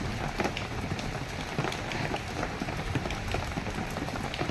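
Heavy rain pours steadily over flooded village fields, a dense and continuous hiss with constant patter and no talking.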